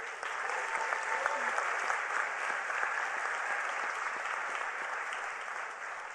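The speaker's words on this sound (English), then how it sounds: "Let's give Kathleen a big hand of applause" Steady audience applause at a United Nations Hult Prize 2019 event, a broad, even wash of many hands clapping for about six seconds in a large hall, heard at a distance.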